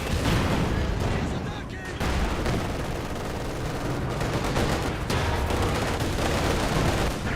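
Incendiary artillery barrage in Company of Heroes 2, a dense run of overlapping shell impacts and gunfire rumbling continuously with a brief dip partway through, loud and busy, with speech mixed in.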